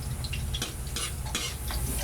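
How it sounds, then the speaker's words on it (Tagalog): Pansit canton bihon noodles are stirred steadily in a frying pan, with a constant oily sizzle beneath repeated scraping strokes of a utensil against the pan. "haluin natin ng dahan-dahan guys"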